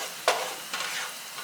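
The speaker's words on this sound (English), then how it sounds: "When you see the garlic starting to, I say, sizzle" A brief stirring scrape in a pan over a light, steady sizzle of garlic frying on medium-low heat, close by with no voices.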